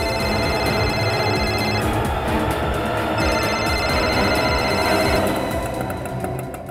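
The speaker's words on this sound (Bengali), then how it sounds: "রিং হচ্ছে হচ্ছে।" A telephone rings in a TV crime drama, its high electronic tone sounding in two bursts under loud, dense background music.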